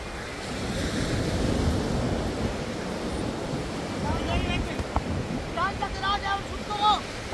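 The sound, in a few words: ocean waves on a beach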